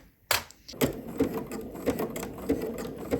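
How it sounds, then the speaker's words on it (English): A sewing machine runs a stretch stitch along a swimsuit seam at quarter-inch allowance, its rhythmic mechanical thumping and clatter steady and close with periodic louder knocks and no talking. "we've got our stretch stitch in. We're sewing at that 1/4 inch seam allowance"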